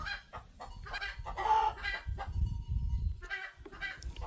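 Chickens at a rural Thai farmhouse cluck in short, close bursts, several birds overlapping irregularly, with a brief crow-like call among them.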